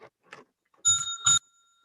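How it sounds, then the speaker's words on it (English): A timekeeper's hand bell at a candidate forum rings twice in quick succession, loud, bright and metallic with a sustained ring, just after a few soft murmurs. "So that's the bell."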